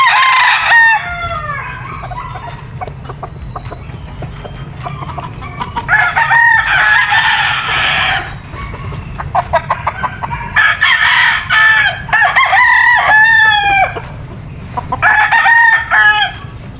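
Game fowl roosters at a native game farm, including claret, gal and bullstag birds, crow loudly in several long bursts with clucking between, close by and without talk.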